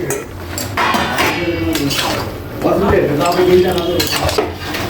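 Dried lentil dumplings (bori) drop into a pot of simmering mixed vegetables with clinks and scrapes of a metal spoon against the pan, heard close up against steady kitchen noise.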